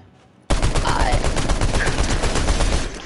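Rapid assault rifle fire in the Fortnite video game, a loud sustained burst of gunshots starting abruptly and continuing for a few seconds, close and dense.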